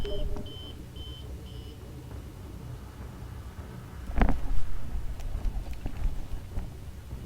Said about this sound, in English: Oh shit, my alarm.